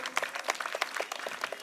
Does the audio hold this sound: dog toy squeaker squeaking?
no